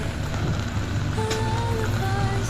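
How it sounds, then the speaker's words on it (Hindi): Heavy rain pours steadily over the busy Haripur vegetable market, a dense constant hiss with a few faint tonal sounds rising briefly over it. "इतनी तेज बारिश"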